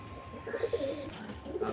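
A pigeon in a loft gives a quiet run of low, burbling coos, a few short pulses early and another cluster near the end, faint against a soft background hum.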